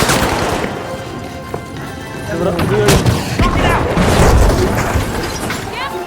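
Shotgun blasts and other gunfire boom and crack through the video game The Finals, mixed with dense game effects and heard under continuous talking by players.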